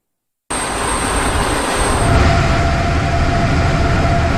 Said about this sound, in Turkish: Önce bir savaş uçağıyla uçtu.